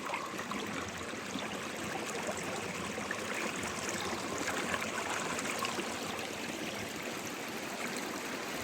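Fresh rainwater stream flowing along a river walk, a continuous close broadband rush and trickle of water over rocks, steady in level for the whole stretch with no voices.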